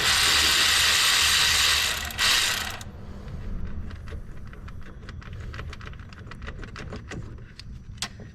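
Ratchet clicking while loosening the 8mm bolt on a Ford Escape camshaft position sensor, a loud hiss at first giving way to a rapid run of close, crisp pawl clicks.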